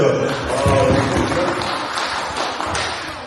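Church congregation applauding, a dense steady wash of clapping that fills the whole stretch at a fairly loud, even level.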